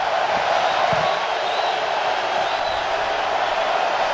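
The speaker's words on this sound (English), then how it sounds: "this crowd responding to the return of pro football here in St. Louis" A stadium crowd at a pro football game in St. Louis, Guardians versus BattleHawks, sends up a steady, dense roar that holds at the same level throughout, with only faint individual shouts standing out.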